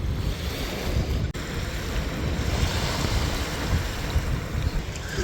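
Steady roar of wind and surf on a beach in Spain, loud and continuous, with heavy wind buffeting on the microphone throughout.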